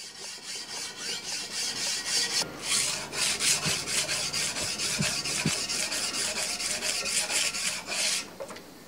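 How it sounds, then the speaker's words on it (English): Sandpaper of 150 grit rasps over the bevels of a forged steel bushcraft chopper blade in quick, steady back-and-forth strokes. The scratchy strokes are close and continuous, with a few faint knocks and no talking. "Clean off the scale from the bevels and sand with 150 grit sandpaper until all the heavy scratches are removed."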